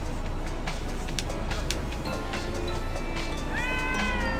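A cat in the video game Lego Batman 3: Beyond Gotham gives several short meows over steady background game noise, with a longer rising yowl near the end.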